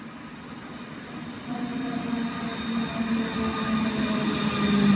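A train at a Polish railway platform gives a low, continuous rumble of wheels and carriages that grows gradually louder over several seconds, heard on its own without voices.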